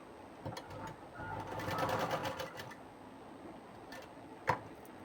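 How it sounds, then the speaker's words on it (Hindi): Sewing machine running a straight stitch along a folded blouse hem with lining, a quiet close burst of rapid rhythmic needle clatter in the middle, framed by a few isolated clicks. "ऐसे फोल्ड करके इसके ऊपर पे हम सीधी सिलाई लगा लेंगे"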